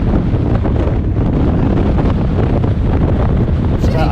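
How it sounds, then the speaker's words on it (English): Strong coastal wind buffets the microphone at a seaside spot, a loud, continuous low roar and rumble that masks everything else for the whole stretch. "I didn't intend it to be that windy."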